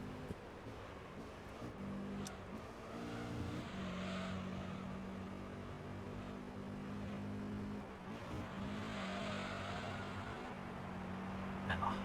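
Race car engine from the Gran Turismo 3: A-spec racing game drones steadily in sustained harmonic tones, holding near-constant revs with small pitch shifts, loud and continuous throughout.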